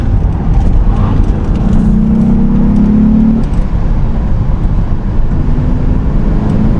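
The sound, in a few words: Mitsubishi 3000GT accelerating through corner, heel and toe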